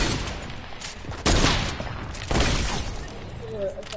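Automatic weapon spray in Fortnite, a video game, comes as dense, loud bursts of gunfire with sharp surges, broken by brief lulls and a faint high ringing tone near the end.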